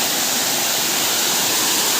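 Champeswar waterfall pours in a loud, unbroken roar, a close, steady rush of falling water with no voices over it.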